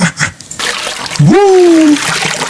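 Swimming at a beach, with water splashing in a steady broadband wash while a voice whoops once partway through.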